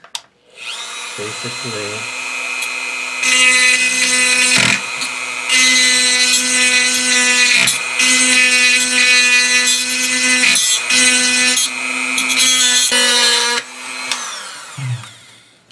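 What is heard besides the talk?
Dremel rotary tool with round tip grinding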